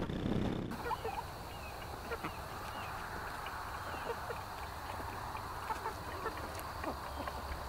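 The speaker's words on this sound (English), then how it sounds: "The chickens are still enjoying their time out here in the back 40" Free-ranging chickens cluck softly while foraging in a large back field, scattered quiet calls over a faint outdoor background with no clear speech.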